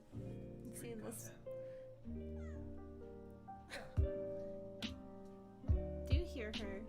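A kitten makes high chirping meows in the background, with several short bursts at irregular intervals under a person talking.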